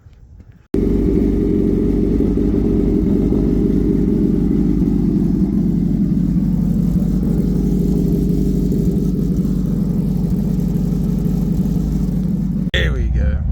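Hayabusa-engined Toyota Corolla drag car warming up, its engine holding a loud, steady idle drone close by for nearly the whole stretch before cutting off abruptly at the end.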